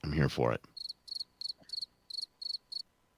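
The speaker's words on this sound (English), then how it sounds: "Crickets." A cricket chirp sound effect follows a brief burst of speech, giving eight evenly spaced, high, clean chirps in a steady rhythm against an otherwise quiet background.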